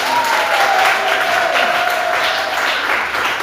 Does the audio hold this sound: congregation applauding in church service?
yes